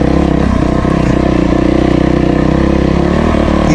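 Kawasaki KDX two-stroke dirt bike being ridden on single-track trail near St George, Utah, its engine droning steadily and close throughout with a constant buzzing note and light clatter, no talking.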